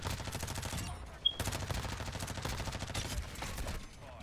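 Rapid automatic gunfire from an MP5 (Lachmann Sub) submachine gun in a first-person shooter game rattles in a dense, continuous stream, breaking off briefly before resuming just as fast; loud and close, with no voices over it.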